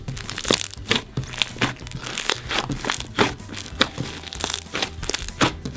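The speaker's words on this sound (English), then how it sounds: "let's hear some crunches from this" Clear butter slime full of bubbles being squeezed and pressed, giving a steady run of loud, close crunching and crackling pops in quick repeated bursts, with no talking.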